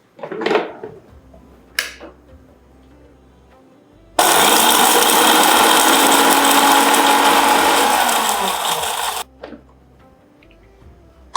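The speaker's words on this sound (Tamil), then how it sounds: "இதை வச்சு நல்லா குறைன்னு அரைச்சிருங்க." A mixer grinder whirs loudly for about five seconds as it grinds spice paste for jackfruit rasam, starting and stopping abruptly, with faint clatters and handling knocks before and after.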